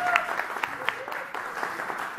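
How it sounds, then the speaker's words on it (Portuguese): An audience applauds a volunteer stepping up at a live sound-effects comedy show, a fairly faint, steady patter of many hands with a few voices poking through. "vamos aplaudir a Laura"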